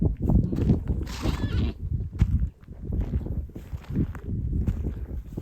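Horses near a camp area in Mongolia make shifting, snorting and whinny-like sounds with hoof movement, close and fairly loud in uneven bursts, with brief pauses.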